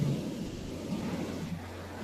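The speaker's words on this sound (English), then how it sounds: "Somebody needs to turn the waterfalls off." Indoor waterfalls run without pause, a steady broadband rush of falling water with a deep low rumble, fairly loud and unchanging throughout.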